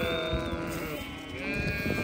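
A ewe that is disturbed while her lamb has not nursed bleats in a long wavering cry that swells again toward the end, close and moderately loud against outdoor background noise.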